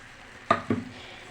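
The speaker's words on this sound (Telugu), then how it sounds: "ఇలా నెయ్యి వేసుకుంటూ కలిదిప్పుకుంటా ఉండాలండి" Two quick scraping strokes of a spoon through a thick kalakand mixture of milk and sugar cooked with ghee in a pan, close and fairly soft, with a quiet kitchen background and no talk.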